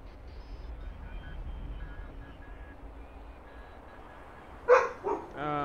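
Dogs barking nearby in a short, loud burst of a few yaps near the end, following a stretch of quiet background sound from a game.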